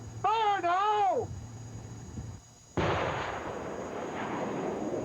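Dallas-Fort Worth bomb squad demonstrating an explosive detonation: a wavering tonal wail, a brief near-silence, then a sudden loud blast that trails into a long rumbling roar.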